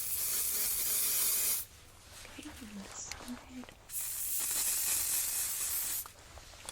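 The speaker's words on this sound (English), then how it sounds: "Just spray a little bit of hairspray on the ends only," Hairspray is sprayed onto the ends of someone's hair during a haircut role play. Two long, close hissing bursts are separated by a quiet pause, with brief soft talk in the gap.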